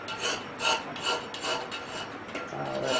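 Hand file rasping across a steel knife blank from a flint and steel knife making kit, rounding a corner; steady back-and-forth strokes, roughly five evenly spaced passes, close and fairly loud with no talk.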